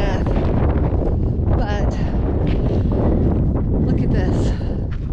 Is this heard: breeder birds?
no